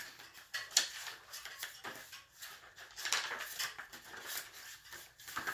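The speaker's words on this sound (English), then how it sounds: "you just love the sound of old pages turning" Old paper pages in a handmade steampunk journal turn and rustle close by, with crisp crunchy flips and taps coming in irregular bursts and no talking.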